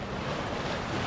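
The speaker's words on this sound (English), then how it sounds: "Water's a bit sloshy" Water sloshes in rock pools on Niue Island, a steady close wash of splashing and churning with a windy, rushing texture and no pauses.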